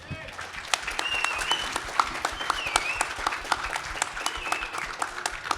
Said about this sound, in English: So big round of applause to Simon and Carlos.